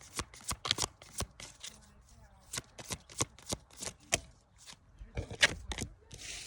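Oracle cards being shuffled by hand in a series of crisp, rapid riffling slaps and flicks at an irregular rhythm, close and fairly loud, with no one talking over them.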